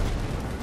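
A short, heavy explosion boom in Battlefield V with a dense low rumble filling the whole moment, loud and close.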